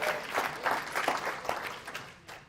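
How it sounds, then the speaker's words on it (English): Moderate applause from a small audience, a brief burst of clapping with uneven bursts that tapers off within a couple of seconds. "give him a round of applause for that"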